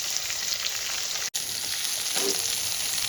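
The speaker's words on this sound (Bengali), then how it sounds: "আমি 4 পিস করে ভেজে নেব।" Pieces of katla fish frying in hot oil give off a steady hiss and crackle of sizzling, with no talk, broken once by a brief dropout.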